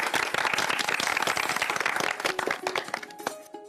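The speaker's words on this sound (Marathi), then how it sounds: "त्यामुळं तुमच्या सगळ्यांसाठी एकदा जोरदार टाळ्या होऊन जाऊ द्यात." Factory workers clap together in a dense burst of applause that thins into scattered, uneven claps toward the end, with a few faint tonal sounds creeping in near the close.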